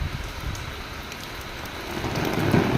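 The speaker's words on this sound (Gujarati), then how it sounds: "જે વરસાદ પડે છે" Steady rain patters on a surface nearby, a dense, even hiss of drops with no voices.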